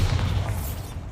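Bombarda explosion spell cast in the Hogwarts Legacy video game, a deep, booming low rumble that fills the whole moment without a clear sharp onset, with no voices.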